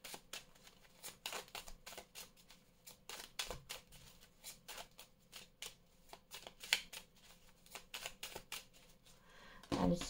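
Tarot cards shuffled and cut by hand in a quiet room, rapid papery riffles and soft slaps repeating in close, uneven bursts, with a louder handling rustle near the end.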